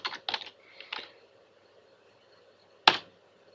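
Keys clack on a computer keyboard as someone types a command on a Windows 8 PC: a quick cluster of close keystrokes, a pause, then one sharp isolated tap.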